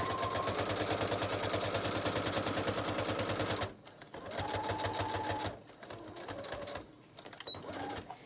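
Sewing machine stitching haphazard fabric patchwork for a gift bag junk journal: a steady rapid mechanical chatter for several seconds, then shorter bursts with brief stops, close and loud.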